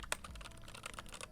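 Rapid tapping on a computer keyboard fills the clip with close, continuous clicking keystrokes in an uneven rhythm and no voices.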